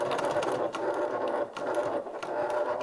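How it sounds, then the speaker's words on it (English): A sewing machine stitches a top handle bag, a steady whirring mechanical chatter close up with a brief pause at about one and a half seconds before it resumes. "Again, I'm going to try to stitch all the way to that snip."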